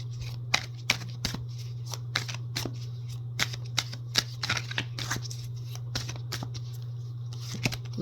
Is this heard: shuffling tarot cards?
yes